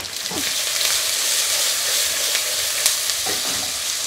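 Onion, ginger, garlic and salt fry in ghee in one pot for a chicken madras, with a loud, continuous close sizzle and occasional scraping stirs.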